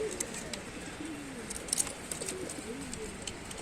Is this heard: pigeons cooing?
yes